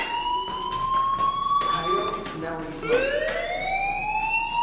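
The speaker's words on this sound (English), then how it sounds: "do you hear that fire alarm?" A fire alarm sounds in the video game Life is Strange, a loud wailing electronic siren sweeping up and down continuously while a voice talks over it.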